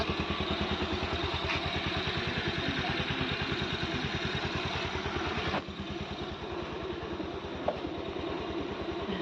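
A 150cc motorcycle fitted with 220cc engine parts runs steadily up close, its low, even engine drone holding throughout with a slight dip partway through and no talking.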